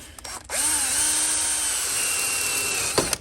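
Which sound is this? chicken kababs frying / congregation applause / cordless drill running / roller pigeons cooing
cordless drill running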